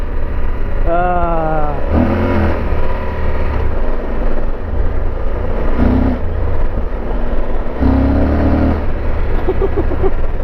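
A 2012 Yamaha Super Tenere motorcycle engine turns over and revs up and down against a steady low rumble, with the pitch rising and falling in a few bursts over roughly ten seconds, close and fairly loud.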